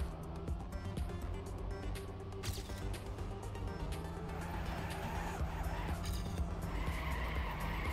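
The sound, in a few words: race car skidding in a racing video game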